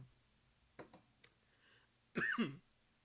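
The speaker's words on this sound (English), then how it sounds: "I love how I start coughing uncontrollably" A few small throat sounds, then a short burst of coughing near the end, close and fairly loud against a quiet room.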